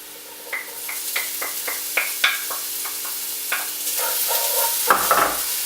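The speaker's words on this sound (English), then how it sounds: "just keep these turning over and keep moving around the pan so they don't burn too much" Ginger sizzles in a hot pan under a steady frying hiss, with repeated scraping strokes of a spoon stirring it around at close range.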